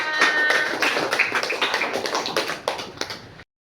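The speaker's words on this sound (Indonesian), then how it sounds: "beri tepuk tangan teman-temannya" Classmates in a primary school classroom clap for a group returning to their seats, a short burst of quick, close, fairly loud handclaps that thins out and stops abruptly.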